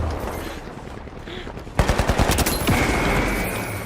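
Rapid bursts of video game gunfire break out mid-clip, a string of sharp evenly spaced shots followed by a sustained noisy rattle, loud and close over a busy in-game background.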